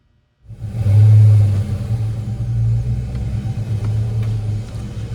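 A 1993 Ford Mustang SVT Cobra engine fires up and revs hard, a loud, close, deep droning rumble that swells and then holds steady with uneven pulses and no talking.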